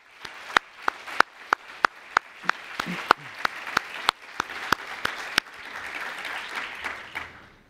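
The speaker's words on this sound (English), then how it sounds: "let's give them a big round of applause" Conference audience applauding after thanks to a planning committee, starting as sharp, evenly spaced individual claps that thicken into a fuller patter of many hands, with no talking.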